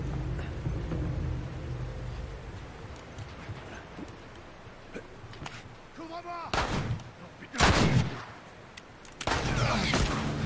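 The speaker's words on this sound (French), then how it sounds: "Qui me tire dessus?" Gunfire in The Last of Us Remastered, a few loud sharp bursts and heavy shots near the end rising out of a rumbling, clattering game background, with a voice speaking briefly.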